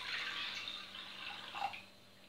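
Roughly 500 grams of water pours into a pan for baklava syrup, a short soft splashing stream that fades after about two seconds.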